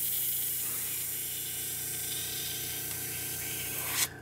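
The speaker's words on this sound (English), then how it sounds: "Today is definitely not my night for airbrush." An airbrush sprays thin acrylic paint as a steady, close hiss that runs without a break, with a brief louder burst of air near the end.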